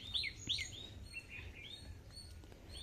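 A sparrow near its nest in a jujube tree in a home garden in Kadapa gives a few quick, faint chirps close together near the start, then softer scattered tweets over a quiet background.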